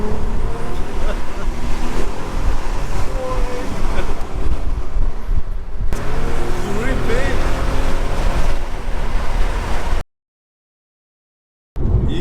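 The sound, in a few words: Audi A3 3.2 V6 car accelerating through the gears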